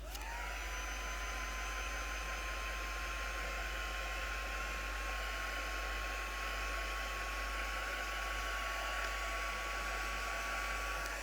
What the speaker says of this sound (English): We'll give that a little bit of a go with dry with the heat gun.